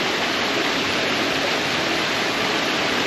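Water rushes steadily and loudly close by, a dense continuous roar with no breaks and no voices.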